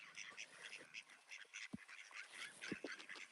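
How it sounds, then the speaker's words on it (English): Ducks quack frantically in a rapid, nearly continuous stream of nasal calls, close by and fairly faint, with a couple of deeper honking notes mixed in. "What a frantic duck there."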